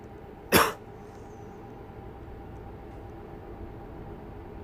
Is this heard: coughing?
yes